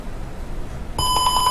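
A simulated piezo buzzer in an Arduino UNO Tinkercad circuit sounds a loud, steady electronic tone that starts abruptly after about a second of near silence and holds to the end, alone with no talking.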